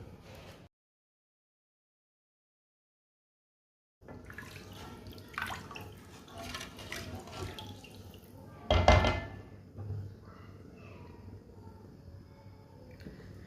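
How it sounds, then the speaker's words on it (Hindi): Water poured into a cooking pot on the stove for Punjabi-style pea pulao, three glasses over one and a half glasses of rice; a steady close splashing wash with one louder gush midway, after a brief silence at the start. "3 गिलास मैंने पानी डाला है उसी गिलास से।"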